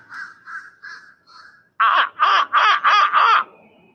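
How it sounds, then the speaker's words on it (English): A big crow caws outdoors, first four softer calls, then five loud, close, harsh caws in quick succession. "That's a crow, man."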